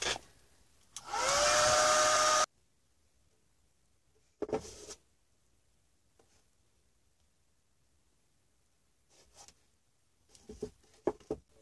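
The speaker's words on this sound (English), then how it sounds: "one thing you can do if you don't want to wait is speed it up with a hairdryer" A hair dryer blows loudly for about a second and a half to dry paint on a 3D paper poppy craft, then cuts off, followed by quiet with a few faint handling clicks and taps.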